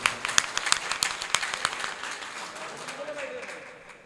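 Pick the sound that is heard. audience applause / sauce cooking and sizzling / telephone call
audience applause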